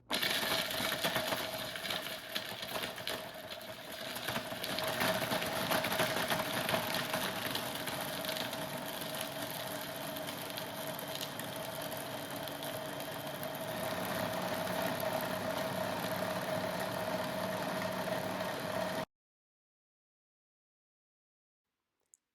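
A blender whirs steadily as it mixes a fruit milkshake with ice cubes and cream, a close, even motor drone lasting nearly twenty seconds before cutting off abruptly into silence.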